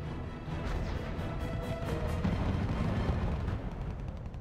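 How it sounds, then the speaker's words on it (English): Tanks shelling a building in the R.U.S.E. strategy game, heard as a dense, continuous rumble of cannon fire and blasts, loud and sustained with no distinct gaps. "The tanks are shooting at the building."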